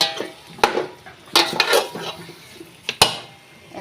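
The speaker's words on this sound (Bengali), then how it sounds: "এখন আমি জলপাইগুলো দিয়ে দিচ্ছি।" Olives go into a pan of fried spices and are stirred, with sharp spoon-on-pan clanks and scrapes over a light sizzle, close up and without talking.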